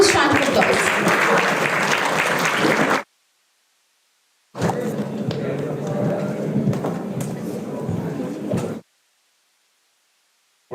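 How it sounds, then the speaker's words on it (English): Audience applause at an international conference on communication, security and artificial intelligence, loud sustained clapping in two bursts separated by silence, with faint crowd noise. "Can we please have a huge round of applause?"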